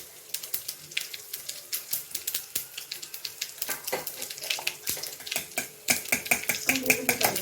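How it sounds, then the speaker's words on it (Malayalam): Mustard seeds, dried chilies and urad dal popping in hot coconut oil: dense, irregular crackles and sharp pops over a steady sizzle, close and busy throughout. "കടുക് പൊട്ടി അങ്ങനെ വെളിച്ചൊഴിക്കുന്നു"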